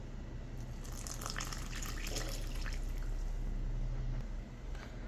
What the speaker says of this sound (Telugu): ఇప్పుడైతే ఇందులోకి కొన్ని వాటర్ యాడ్ చేద్దాము